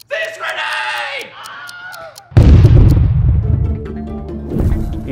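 A cartoon explosion of an exploding fish: a sudden loud boom bursts in after a few seconds of tonal, voice-like sounds, then rumbles on with crackling debris and fades slightly.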